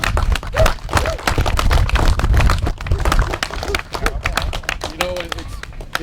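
Applause for the Brennan Roses Festival Committee at the Strikers Monument Ceremony, a crowd clapping steadily throughout, with loud dense claps up close and voices mixed in.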